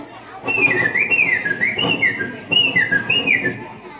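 A child on a school stage imitates a quail call with a shrill whistled warble, repeated in a quick rising-and-falling pattern over a murmuring background.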